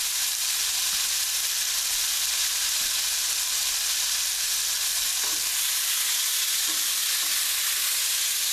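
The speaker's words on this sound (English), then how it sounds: "I will drop the beef right on top of the vegetables" Beef dropped onto sweating vegetables in a stew pot for a beef stew with red beans and lentils sizzles with a loud, steady hiss throughout, broken by a few faint stirring knocks.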